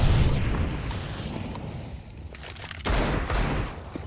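Rapid bursts of XM shotgun fire in Counter-Strike on the Inferno map, loud and close, with a dense volley at the start and another strong blast near the end, blending into continuous in-game noise.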